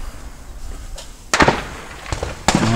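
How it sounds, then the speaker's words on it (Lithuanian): Gunshots ring out at a zero range at Bisley, a few sharp, loud reports spaced apart, the nearest cracking close over quiet outdoor background. "Vienas žmogus šaudo."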